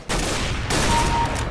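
A powerful video-game weapon fires one heavy, booming report that rolls into a second blast, loud and close, with a short echoing tail.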